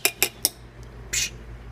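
A spoon clinking against a cup while hot chocolate is stirred, three quick bright taps followed by a short scraping clink, close and fairly quiet.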